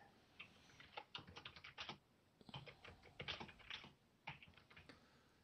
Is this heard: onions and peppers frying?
no